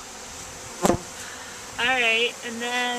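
A quick honeybee buzz passes close by, then a person speaks briefly over a faint background hum, while bees are being installed in a hive.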